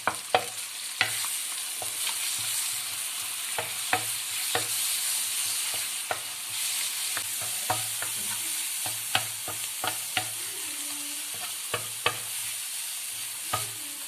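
Eggs are stirred and mixed in a hot frying pan for a spicy Pakistani omelette, a steady sizzle running under frequent sharp clicks and scrapes of the utensil against the pan, with no voices.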